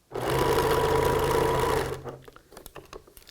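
A sewing machine runs fast and steady, stitching a layered T-shirt quilt block to a red block, its close mechanical whir lasting nearly two seconds before stopping, followed by light handling clicks.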